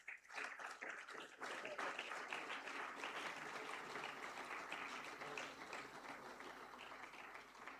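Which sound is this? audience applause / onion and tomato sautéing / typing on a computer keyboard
audience applause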